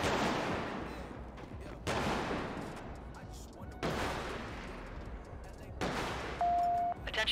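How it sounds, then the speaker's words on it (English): Repeated bursts of gunfire from the video game GTA 5 with an LSPDFR police mod during a gang unit patrol, four loud broadband volleys about two seconds apart, with a short tonal beep near the end. "Somebody else still shooting."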